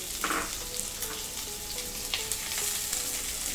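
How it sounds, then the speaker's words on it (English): Steady oil sizzle of sliced onions frying in about two tablespoons of oil in a pan, with occasional stirring clinks and scrapes over the continuous crackle. "So in around 2 tablespoons of oil, we will be frying these onions."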